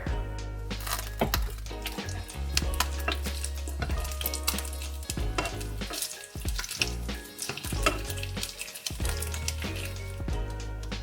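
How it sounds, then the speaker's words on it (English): Streaky bacon sizzles and spits steadily in a hot pan as it crisps, with occasional scraping and clinks from a utensil, continuous and close. "when I'm cooking streaky bacon and making it crispy"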